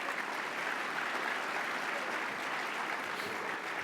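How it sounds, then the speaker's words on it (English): A crowd at a mayor's speech applauds the Port of Long Beach, producing a thick, even wash of clapping from many people that holds steady throughout, without speech on top. "Another round of applause for the Port of Long Beach."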